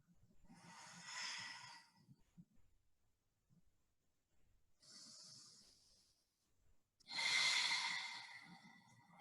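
Deep breathing during a yoga pose: three slow, audible breaths, each a soft airy rush, close and quiet, with still gaps between them.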